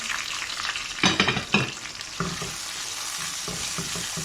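Tomatoes tipped into a pan of frying garlic, with a steady sizzle throughout and two louder bursts of hissing as they hit the hot oil, followed by a few scraping stirs.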